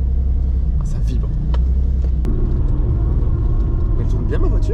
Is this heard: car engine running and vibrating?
yes